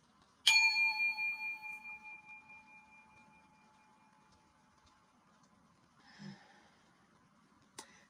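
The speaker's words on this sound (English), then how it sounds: "Something about the bell is just such a relaxing thing." Struck bell used for a sound bath rings once with a bright, clear tone that decays slowly over several seconds, followed by a few faint small noises and a short tap near the end.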